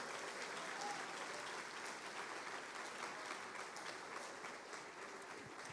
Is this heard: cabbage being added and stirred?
no